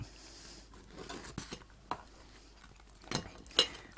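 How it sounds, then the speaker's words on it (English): Metal knife scraping and clinking against a sandwich toaster while lifting out a toasted ham and cheese sandwich, a few sparse soft clinks and taps ending in a sharper metallic clink. "I'm going to use the knife to very carefully lift it out"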